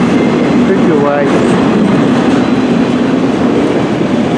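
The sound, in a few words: CN M384 northbound freight train passing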